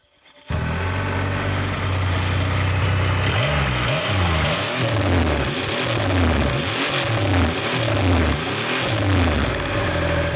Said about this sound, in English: listen to the motorcycle's roar